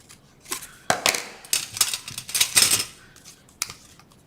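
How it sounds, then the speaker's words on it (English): Scissors make crisp, close snips through cardstock, coming in irregular single cuts and short bursts with quiet gaps between them. "I'm just going to back it on cardstock and I'm just going to cut it out."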